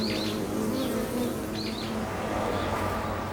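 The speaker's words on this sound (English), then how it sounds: "A wasp tries to attack the honeybees flying in and out of the nest." A wasp and honeybees buzz around a honeybee nest, a dense continuous droning hum with brief higher whirring wingbeat passes over it, close and steady with no talk.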